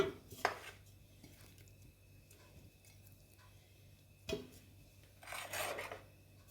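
Cow trotters for a Moroccan dish with beans and chickpeas are set into a cooking pot (cocotte), giving a couple of soft knocks and scraping rustles in a quiet kitchen.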